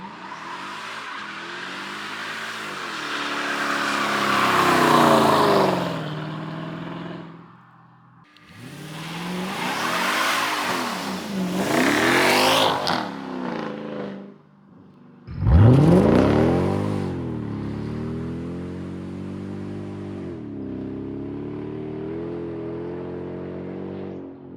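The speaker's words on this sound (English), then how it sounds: "we got the E55 running and driving" Mercedes E55 AMG engine revving hard in three loud bursts, rising and falling in pitch between pauses, with tire squeal suggesting burnouts and hard acceleration up close.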